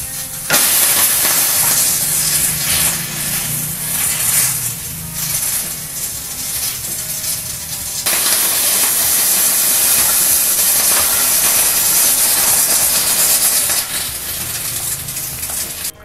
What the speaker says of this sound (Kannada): ಈಗ ಕುಕ್ಕರು 2 ವಿಸಲ್ ಬಂದಾಯಿತು.